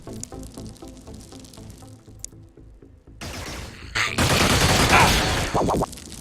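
Laser machine gun fire in the strategy game Xenonauts, a dense, loud sustained burst of rapid shots after a quieter stretch of stuttering pulses.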